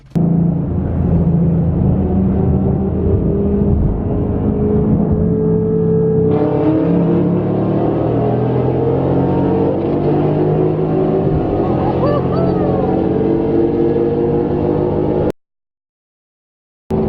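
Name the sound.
cars pulling out and accelerating in street race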